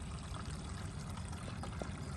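Water pours steadily into a two-gallon container holding a bleach and soap soft-wash mixture for cleaning house siding. The rush of water is continuous and close, with no talk over it.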